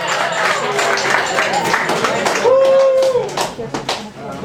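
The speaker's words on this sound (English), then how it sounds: "let's have a big, big round of applause" Open-mic comedy crowd greets a comedian with dense, close clapping, mixed with cheers and voices, which thins and becomes more scattered toward the end.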